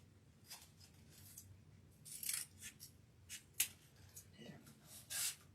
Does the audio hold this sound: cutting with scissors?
yes